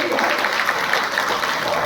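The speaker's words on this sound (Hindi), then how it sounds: "जोरदार तालियां हमारे देश के प्रधानमंत्री के" Audience applause at a BJP party meeting in Sujangarh, Rajasthan: dense, steady clapping from a crowd filling the whole moment, loud and close, with no clear voices above it.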